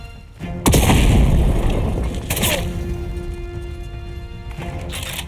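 Gunfire from a first-person shooter game, a loud blast near the start followed by a second shot, with a decaying rumble and ringing tail that fades over several seconds.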